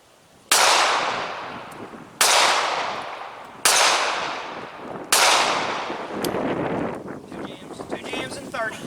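Four sharp, loud gunshots from a Ruger LCP .380 pistol during a torture test, fired at irregular intervals of about one and a half seconds, each with a decaying echo, followed by softer clattering noise and wind.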